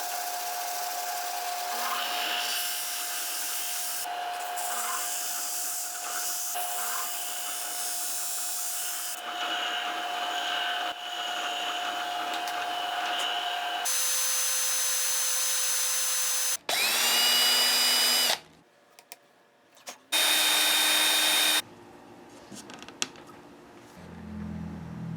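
A drill bores into the wood of a Les Paul guitar neck during repair, a steady high whine running for long stretches, then stopping and restarting in short bursts with shifting pitch, close and alone.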